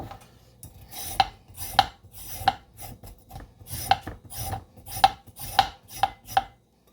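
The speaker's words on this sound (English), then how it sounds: "I'm just gonna peel the carrots." Repeated scraping strokes of a peeler against carrots, about a dozen rasping swipes in an uneven rhythm, close and clear with quiet gaps between.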